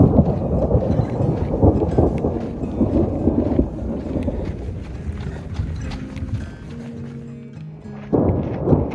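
Low rumbling thunder from a storm over the Grand Canyon rolls on and swells for several seconds, fades, then surges again near the end, with no talk.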